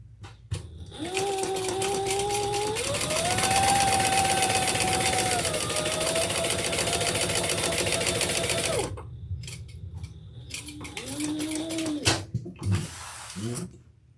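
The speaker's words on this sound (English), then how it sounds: "we're going to stitch across this bottom, closing off that slip pocket" A sewing machine stitches across the bottom of a handbag slip pocket in a long, loud, steady motor whir that rises in pitch, stops briefly, then resumes for a shorter burst.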